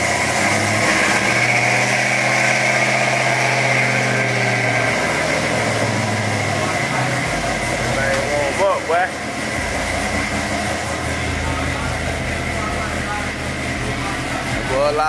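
A boxy Chevrolet car engine idles while warming up with a steady low hum, rising briefly in a quick rev midway before settling back to a rough idle.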